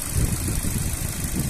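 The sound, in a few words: Ford Focus 1.6 petrol car engine idling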